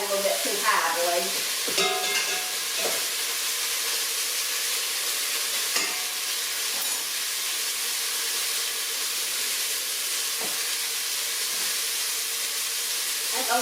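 Beef sizzles and browns in a pot on the stove, a constant crackling hiss with occasional scraping stirs and clinks, fairly close and steady throughout.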